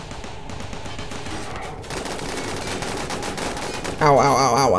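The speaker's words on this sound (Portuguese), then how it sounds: "Vai, manda ver aí esse tiro." Gunfire from the Rimworld video game with the Call of Cthulhu mod, a dense run of rapid shots over game music, ending in a louder burst with warbling tones; a voice talks faintly under it.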